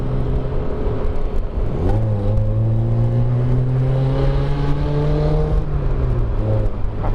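On a night ride along a road toward People's Park in Cavite, an engine drones steadily nearby, then a car swoops past with a rising then falling whine, loud and close, before it trails off.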